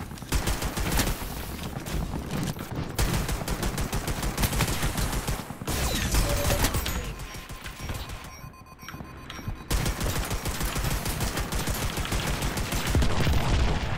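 Dense, almost continuous automatic gunfire rattles through a match of the PvP shooter Leap, rapid loud shots layered with booms and crashes, pausing only briefly twice.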